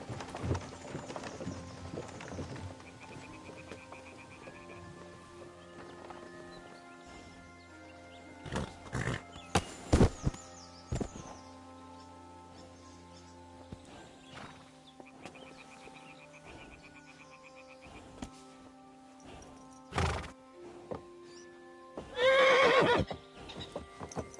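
Hooves clatter in bursts amid game-like sound effects, punctuated by loud whinnies from a horse, with sharp impacts and a long quieter stretch between.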